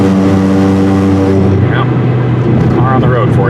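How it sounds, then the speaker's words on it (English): A car drives along a road during a December storm chase, its steady engine and tyre rumble loud and close throughout, with a voice talking over it. "car on the road for you here"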